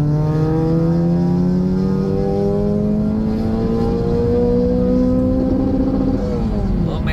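Modified Rebirth car with HKS exhaust on a nitrous run, engine revving loudly with steadily rising pitch over several seconds before easing off, with talk faintly underneath.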